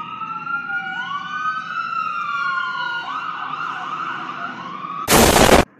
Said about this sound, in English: now there's a fire truck coming up